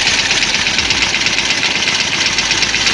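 A Yamaha Jupiter Z1 motorcycle engine idles with no throttle applied. The engine has a rough-sounding fault and limited top speed, and it gives a steady, close, continuous mechanical drone with an even rattle throughout.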